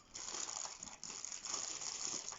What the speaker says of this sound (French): Voilà, donc je commence le déballage.